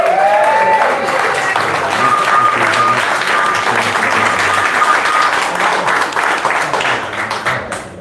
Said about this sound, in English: I'd just like to say a round of applause.